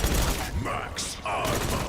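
Rapid video-game gunfire from Black Ops 6 Zombies crackles in loud, dense bursts, a couple of volleys separated by a brief pause, with close, sharp reports.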